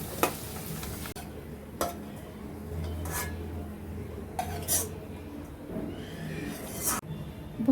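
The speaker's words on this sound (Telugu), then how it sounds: "కిస్మిస్ వేయించుకుంటున్నాను" Raisins fry in a pan for upma rava prasadam: a soft sizzle runs under several sharp clinks and scrapes of a spoon against the pan, spaced irregularly and close by.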